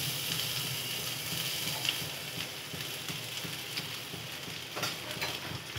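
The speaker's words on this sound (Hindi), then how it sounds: "ये तेल गरम हो चुका है, इसमें पहले आप अदरक डाल दीजिए।" Ginger sizzles steadily in hot oil for pav bhaji, a dense continuous crackle with a few sharper pops and spoon scrapes near the end, close and alone with no talk.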